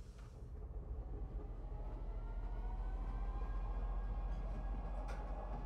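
A train in the Star Citizen video game rumbles steadily along the tracks with a deep, continuous roar. The sound swells and then holds loud and close throughout, with a faint whine and occasional clicks on top.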